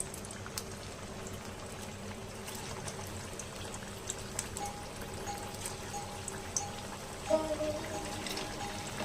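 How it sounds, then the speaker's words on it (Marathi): Sabudana vadas frying in hot oil, a faint continuous sizzle and bubbling with occasional small pops and crackles, steady throughout with no talking. "आता तेल गरम झालेलं आहे। आता मी वडे सोडत रेडी करते।"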